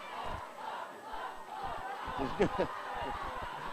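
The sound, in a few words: crowd calling out at a rugby league match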